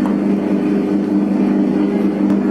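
A bread dough mixer kneads pandan bread dough with a steady, loud mechanical hum and drone that holds constant throughout with no pauses.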